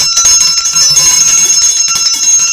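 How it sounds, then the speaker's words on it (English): A small bell rings repeatedly in quick succession, bright and close, its tones shimmering and overlapping. "then I like to ring the bell"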